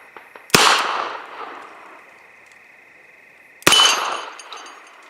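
Two sharp, loud shots from a Smith and Wesson Victory .38 revolver, about three seconds apart, each a hard crack followed by a ringing decay outdoors.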